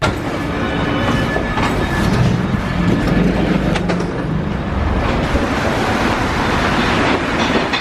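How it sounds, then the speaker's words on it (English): A metro train pulls into a Paris station with a loud, steady rumble of wheels and rail noise that fills the platform for several seconds, and no one speaks over it. "Metro's here."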